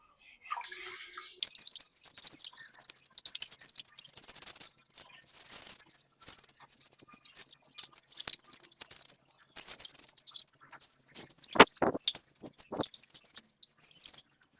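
Irregular soft scraping and rubbing strokes as aquarium glass is scrubbed underwater, wet and muffled, close by, coming in uneven bursts with brief pauses.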